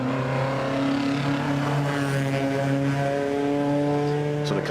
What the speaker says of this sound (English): The magnificent MG Metro 6R4, 3 litres of mid-engined V6 grunt